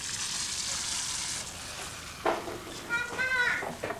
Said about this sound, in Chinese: 妈妈这正煎着呢